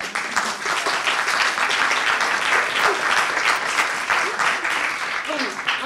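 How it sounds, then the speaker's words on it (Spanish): A sustained round of audience applause fills the room, many hands clapping steadily and fairly loudly, with a few voices faintly mixed in. "Otro aplauso, por favor."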